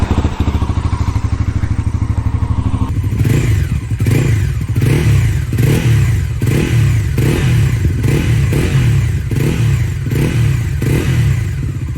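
Bajaj Pulsar NS400Z motorcycle with a 40 PS, 33 Nm engine idles steadily for about three seconds, then gets revved in regular, punchy bursts roughly once a second, close and loud, with no talking.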